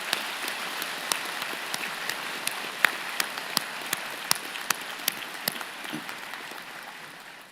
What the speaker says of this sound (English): thanking them with a vigorous round of applause